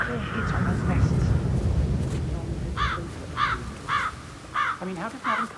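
Harsh crow caws ring out in a steady series of five or six calls in Hitman 3's Dartmoor level, clear and fairly close, following a stretch of rumbling background and voices.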